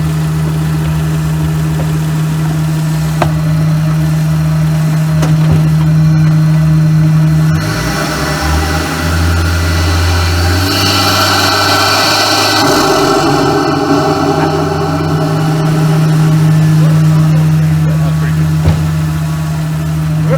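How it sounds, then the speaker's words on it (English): A factory VL turbo engine idles steadily, then revs up in a swell and settles back, with a brief airy flutter near the airbox and a person talking over the engine. "we're gonna see if a factory VL turbo will do a dose"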